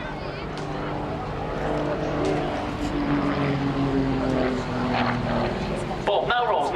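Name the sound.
RAF Grob Tutor propeller aircraft flying display manoeuvres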